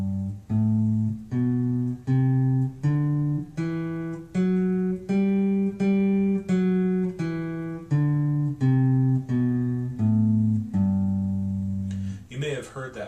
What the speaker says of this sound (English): The major scale sounds like this.